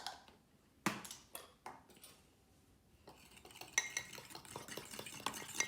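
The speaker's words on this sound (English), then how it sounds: "And we're gonna mix it up again." Cake batter with baking powder being mixed by hand in a bowl, giving intermittent scraping and stirring strokes with a few sharp utensil clinks against the dish, close and fairly quiet with no talk.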